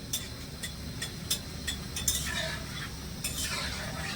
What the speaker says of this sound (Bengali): পাপড়িগুলো দিয়ে এবারে হালকা আছে ভেজে নেব মানে মিডিয়াম গরম তেলে ছাড়তে হবে হালকা আছে ভাজতে হবে